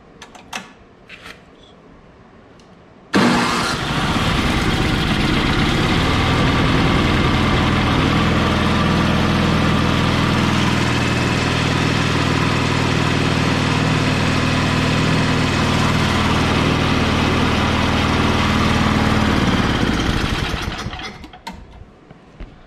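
A snowblower engine with its choke on starts after a few faint knocks, then runs steadily and loudly for about seventeen seconds before cutting off. No one speaks.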